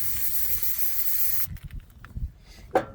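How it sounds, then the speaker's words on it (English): A loud continuous aerosol cleaner spray hisses for about a second and a half onto an injector fuel tube of a Cummins 5.9 24V common rail engine, then stops, followed by faint handling clicks and a short squeak. "You want to make sure you spray down your tube"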